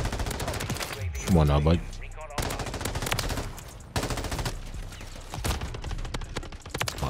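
Rapid bursts of M13B rifle fire in Modern Warfare 3 crackle in quick volleys with short gaps, mixed with game noise, while a player speaks briefly.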